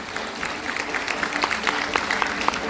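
Audience applause in a university student hall after a special panel discussion at an international education conference, steady and fairly faint, with scattered sharper claps over a continuous dense patter lasting throughout.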